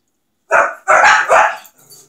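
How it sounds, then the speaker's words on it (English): A dog barking nearby: three loud, sharp barks in quick succession, followed by a faint trailing sound, with no other noise around them. "Can't really control the dog's barking"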